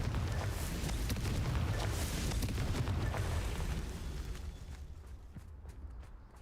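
A Confringo fire blast spell explodes in Hogwarts Legacy, a loud sustained booming roar with crackling that rumbles for several seconds, then fades into a quieter tail, with no talk.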